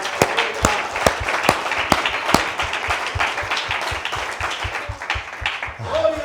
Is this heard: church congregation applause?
yes